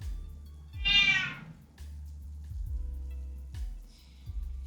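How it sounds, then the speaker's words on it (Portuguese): A female house cat gives one clear, drawn-out meow indoors, close and fairly loud, over a faint, steady pattern of low thumping in the background. "a gata fica aperreando"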